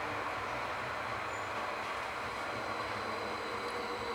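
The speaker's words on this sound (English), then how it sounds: "Ooh, that's the longer train as well." A train passes steadily, a broad, continuous rumble and rolling wheel noise at moderate distance with no break over the few seconds.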